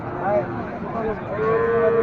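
A small bull lows at a busy cattle market in Sonamukhi Bazar, Kazipur, Sirajganj, giving a brief mid-distance moo amid background voices and crowd murmur.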